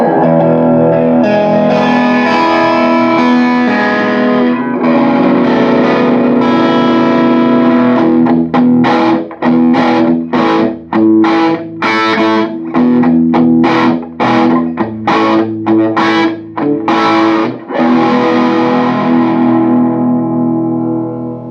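Heavily distorted electric guitar played through an Orange amp: long ringing chords open the riff, followed by choppy, palm-muted stabs and bursts that fade out at the end, loud and alone.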